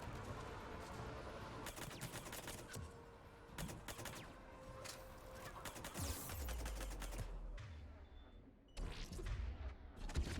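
Enemy gunfire in Mass Effect 3 crackles in rapid automatic bursts and single shots, some close and sharp, others more distant, with a few heavier thuds mixed in.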